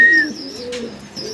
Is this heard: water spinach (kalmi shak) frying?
no